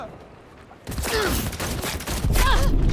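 Rapid bursts of pistol gunfire in Cyberpunk 2077 crackle loudly, with a sudden onset after a quiet moment and a brief voice in the mix.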